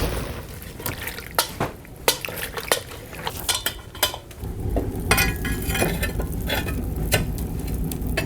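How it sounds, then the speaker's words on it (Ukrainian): Metal utensil scraping and clinking against a pan in repeated sharp strokes, stirring sizzling meat and beets, with a steady low hiss underneath, close and fairly quiet. "чую, в нас вже шкварчить, але мені треба зараз підмішаємо ще"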